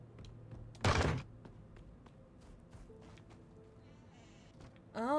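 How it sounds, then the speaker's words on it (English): Doors open in a first-person video game set in a manor, with a loud thudding bang early on, then quieter taps and clunks over a low ambient hum, ending in a sharp louder sound. "So we're just opening doors."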